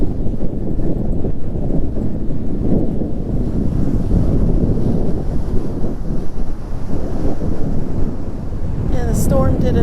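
Strong wind roars across a storm-battered beach at Jensen Beach after a hurricane, a loud, constant blustering rush buffeting the microphone with surf beneath it, unbroken throughout.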